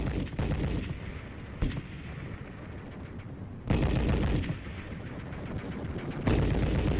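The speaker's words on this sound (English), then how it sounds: "it was quite different when live ammo was being thrown at you" Live ammunition fire on a military training course for Republic of Korea soldiers, a series of loud sharp bursts and blasts over a continuous roar of gunfire, with sudden booms recurring every couple of seconds.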